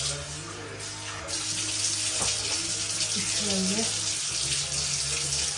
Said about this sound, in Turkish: Biraz da su ekleyeyim.